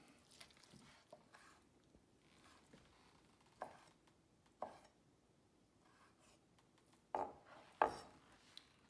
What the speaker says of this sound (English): just keep kind of cutting it up and just kind of rough chop it